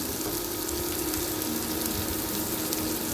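Sliced onions and green chilies with a pinch of salt fry in an oiled pan, giving a steady, close, even sizzling hiss with no break and no talking.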